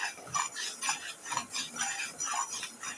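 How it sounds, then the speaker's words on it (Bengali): Spices with Kashmiri red chili powder and salt are stirred in a pan for a small-fish curry, a rhythmic run of about six scraping strokes close up, fairly soft and steady. "খুব ভালো করে নাড়াচাড়া করে নেব। মশলাটা খুব সুন্দরভাবে আমি ভেজে নেব।"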